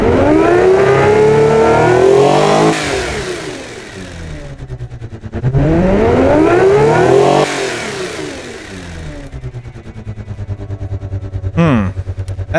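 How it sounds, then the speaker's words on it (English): A loud V12 engine in a car video game revs up twice in long rising sweeps, each climbing in pitch then dropping off, with a brief burbling blip near the end. "I guess that's just what V12 sound like"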